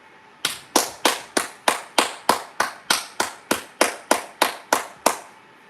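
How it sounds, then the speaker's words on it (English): Hands clap in a steady, even rhythm, about fifteen sharp, loud claps in a row with nothing else heard. "Clap it up again for Z. Smith, man."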